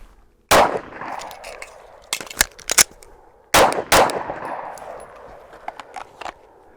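Several pistol shots from a Glock 19 or Glock 26 at a shooting range ring out sharp and loud, starting with a lone shot, then a quick cluster of shots, then another pair after a pause, each trailing off in range echo.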